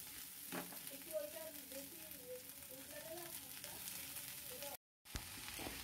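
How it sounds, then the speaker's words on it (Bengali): Chopped peperomia pellucida greens fry in a pan with onion, garlic and black cumin while a spatula stirs them, giving a steady, close sizzle with a voice talking faintly underneath. "এবার খুন্তি দিয়ে শাকটার সাথে পেঁয়াজ আর দিকে রসুন আর কালো জিরে যা যা দিয়েছিলাম সবটা ভালো করে মিশিয়ে দিতে হবে"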